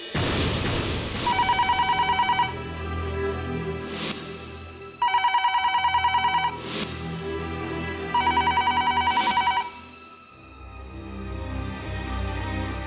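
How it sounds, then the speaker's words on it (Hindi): A telephone rings in three bursts of rapid electronic trilling separated by pauses, loud and close, layered over dramatic background music and whooshing swells. "क्षोम, कब से फोन बज रहा है?"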